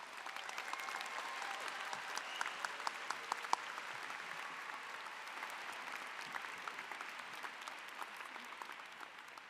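Audience applause at a psychology graduation commencement ceremony, a steady field of many hands clapping at moderate distance, sustained and even for the full duration with no voices over it.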